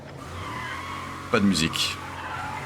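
A car in a game skids off with a short burst of squealing tires midway through, loud against a steady background hum, while a person speaks briefly.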